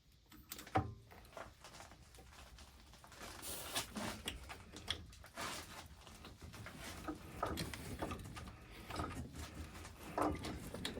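Irregular metallic clicks and scrapes come from a die being turned by hand to cut a tight 10mm thread onto a metal bar, close up and moderately loud, with uneven bursts and short pauses and no talking.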